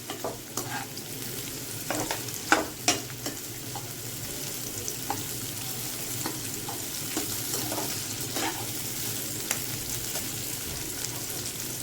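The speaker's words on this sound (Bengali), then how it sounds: "এটা একটু ভাজা ভাজা করছি বন্ধুরা, অল্প জাস্ট কাঁচা গন্ধটা যেন চলে যায়।" Tomato and onion frying in a pan with steady close sizzling, punctuated by scraping and clicking stir strokes at irregular intervals, no voices.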